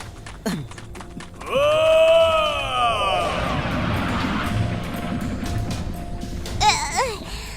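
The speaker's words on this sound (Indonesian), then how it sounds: "itu teriakan yang murka" A sharp, furious scream in the video game Dragon Warrior 2 rises and wavers for over a second, then trails into rumbling game noise, with a shorter cry near the end.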